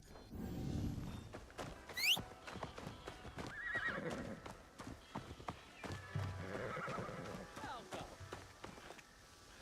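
Horse in Assassin's Creed Shadows whinnying and clopping its hooves at a steady run, close by, with game ambience and a voice talking over parts of it.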